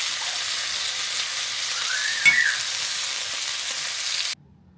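Food sizzles steadily in a hot frying pan as it cooks, just before being flipped: a loud, even frying hiss that runs continuously for about four seconds, then cuts off abruptly.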